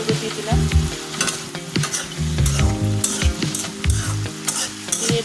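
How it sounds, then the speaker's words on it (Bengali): Fish curry, a dry bhuna of local shing fish with turmeric, sizzles in a frying pan while a spoon stirs it. The frying is steady and close, the scraping strokes are irregular, and nobody speaks. "দিয়ে ভালোভাবে নাড়াচাড়া করবে।"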